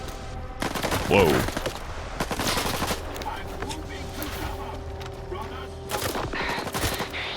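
Automatic rifle fire in S.T.A.L.K.E.R. 2, several rapid bursts with near, loud cracks early and again near the end, mixed with game ambience while someone talks over it.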